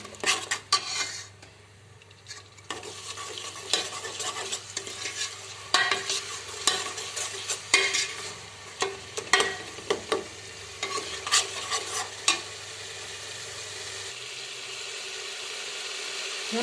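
Black chickpea masala with chunky tomato paste is stirred and roasted in a pan, with repeated spoon scrapes and clinks against the metal over a steady sizzle, near and alone.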